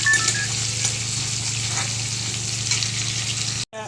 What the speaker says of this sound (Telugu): సాల్ట్, ఎందుకంటే ఆనియన్స్ కొంచెం తొందరగా ఫ్రై అవుతాయి